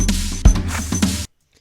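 A breezy drum loop programmed in FL Studio for a space-style beat plays alone for about a second, with a heavy low kick and percussive hits, then cuts off abruptly into silence.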